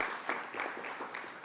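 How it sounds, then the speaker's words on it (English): A crowd applauds at a United Nations event, a steady patter of many hands clapping together at moderate distance, fairly soft and continuous throughout with no voices on top. "I believe this is a round of applause for what they have done."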